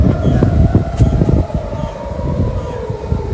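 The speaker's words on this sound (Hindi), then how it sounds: "सायरन आप सुन सकते हैं" Air raid sirens wail loudly in Israel as people run for shelter, a sustained rising-and-falling tone heard over a busy, rumbling background.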